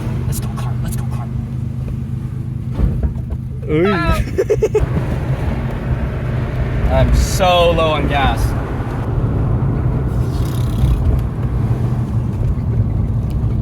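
A lowered Nissan 300ZX droning steadily at low pitch while driving, with louder revving rises partway through, heard close from inside the cabin under ongoing talk.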